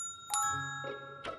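A push-button doorbell pressed, giving clear electronic ding-dong chimes: a bright tone, a lower one, then another bright strike, each ringing out briefly in a quiet room.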